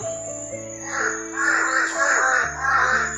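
A crow caws repeatedly in harsh, rhythmic calls over a steady hum and a continuous high-pitched tone, with no talking.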